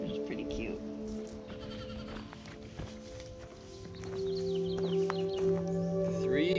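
Young goat kids bleat in bursts at a farm, rising higher and busier toward the end, over steady low animal noise and some shuffling hoof sounds nearby.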